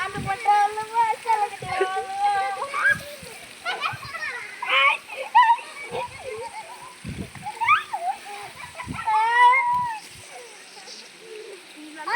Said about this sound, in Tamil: இப்போ உங்க மேலே தண்ணி விழுக போது தள்ளி நில்லுங்க.